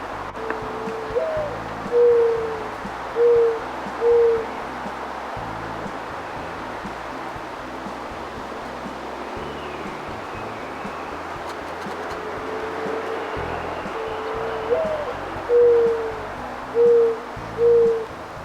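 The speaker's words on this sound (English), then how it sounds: "I can hear the birds cooing." A bird coos outdoors in two series of soft, low calls, three or four notes each, separated by a long quiet stretch of faint ambient noise.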